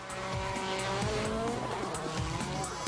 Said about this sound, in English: The smooth gravel roads that hug the natural flowing camber of Finland's forests are perfect for high-speed WRC action.